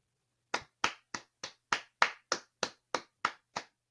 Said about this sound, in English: That deserves a round of applause from me